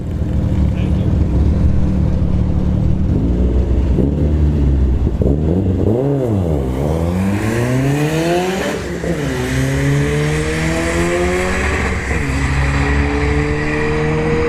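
An SR20-engined drift car revs hard up and down through repeated sweeping climbs at a drag strip, then holds a sustained high roar, loud and close throughout.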